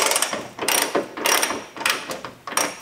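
Ratchet undoing the bonnet strut bolts on a Toyota Land Cruiser 79 Series, giving loud close clicking runs in four or five distinct bursts separated by short pauses, with no talking.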